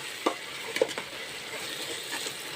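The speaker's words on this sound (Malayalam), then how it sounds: "ഇത് നന്നായിട്ട് വഴറ്റിയെടുക്കണമല്ലേ" Onion, tomato, ginger, garlic, green chilli, turmeric and masala sautéing in a pan, with a soft steady sizzle and a few brief spoon scrapes and clinks early on, heard alone at low level.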